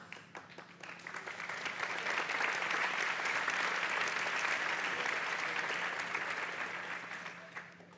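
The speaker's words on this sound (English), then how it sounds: "Didn't expect an applause break there." A conference audience at a tech talk breaks into sustained applause, a dense, even wash of many hands clapping that swells for several seconds and then slowly fades, with no voice over it.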